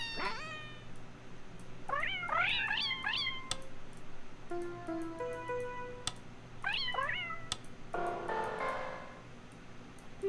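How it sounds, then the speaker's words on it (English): Repeated cat meows from the video game Offbeat, rising and swelling in short bursts of three or four, with a caterwauling yowl and chiming tones in between over a steady low hum. "Swelling meow."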